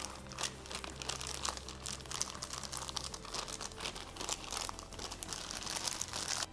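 Semi-sweet mini chocolate chips spill out of a nearly empty bag into cupcake batter, giving a steady, close crinkling rustle of plastic with scattered small patters over a low background hum, no talking.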